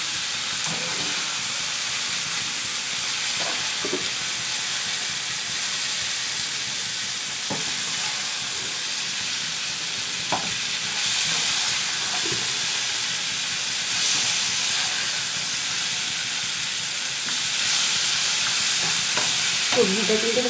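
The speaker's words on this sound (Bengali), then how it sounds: "সবজিটা কিন্তু ভালো করে ভেজে নিতে হবে, তবে কিন্তু খিচুড়ির টেস্টটা আরও বাড়বে।" Vegetables frying in oil for khichuri give a steady, continuous sizzle and hiss with occasional soft stirring scrapes, close and even throughout, with no talking.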